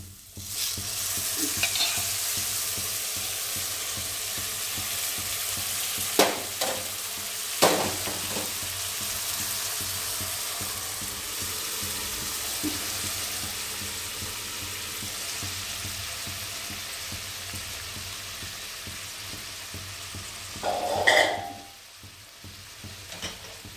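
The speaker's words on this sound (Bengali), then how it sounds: "এবার আমি ডালটা ছুঁকে দিচ্ছি।" Chana dal being tempered and fried in a pan for a traditional Bengali dish, giving a long steady sizzle with a few scattered knocks of stirring and a brief louder burst near the end, no talking.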